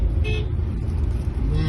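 A car horn sounds two short toots, one early and one at the end, over a steady low engine and road rumble inside a moving car during a driving session near children on the road.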